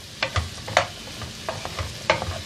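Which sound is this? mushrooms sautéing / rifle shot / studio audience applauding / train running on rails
mushrooms sautéing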